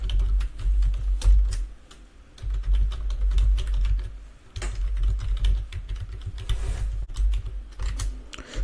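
Password being typed on a computer keyboard: rapid, uneven runs of close key clicks with brief pauses between bursts.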